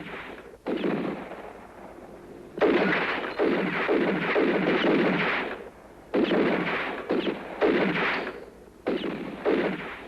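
Gunfire in the Western video game Dead For A Dollar: loud, sustained bursts of shots and rapid fire in several long stretches separated by short pauses, with no talking.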